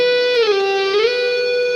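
A single electric guitar note slides down and back up the neck without a fresh pick, one smooth sustained tone from a solo, loud and alone.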